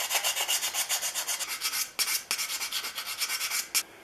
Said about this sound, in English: The sanding stick is first